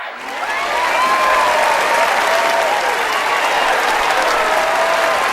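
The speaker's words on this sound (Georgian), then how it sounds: "აპლოდისმენტებს ველოდები" A crowd applauds after a win at a UFC 319 fight, a dense and sustained wash of clapping that rises in the first second and stays steady, loud and full, with faint cheering mixed in.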